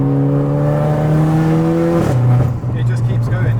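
A 250 bhp Renault Clio RS pulls hard with a steady, droning engine tone that holds and then drops as a gear changes, heard from inside the cabin beneath talking.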